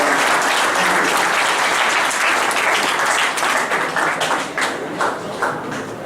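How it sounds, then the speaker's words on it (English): Audience applause at a college festival event, a dense, steady clapping from a large crowd that holds strong for several seconds, then thins and fades toward the end. "So big round of applause to yourself for the efforts to make English."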